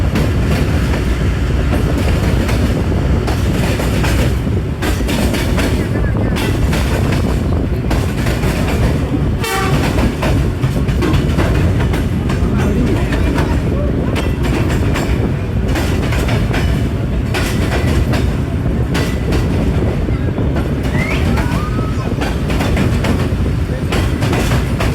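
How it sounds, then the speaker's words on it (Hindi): A Bulleh Shah Passenger train hauled by HMU 8224 approaches Kot Lakhpat station in Lahore. It gives a loud, continuous rumble with clattering wheels and a horn blast, heard up close. "ट्रेन हमारी अप्रोच बना रही है जी कोट लखपत रेलवे स्टेशन के ऊपर"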